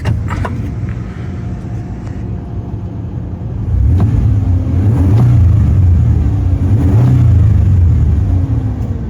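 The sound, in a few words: Ford Explorer engine revving in neutral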